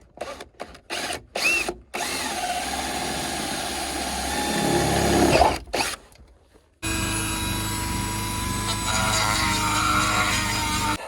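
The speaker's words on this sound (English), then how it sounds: "we're gonna drill a 1/2-inch hole and then hog it out with the" A power drill whirs in short bursts, then runs steadily under load as it bores a half-inch hole through metal on a Ford F250 6.9 IDI diesel truck; a louder continuous motor hum follows.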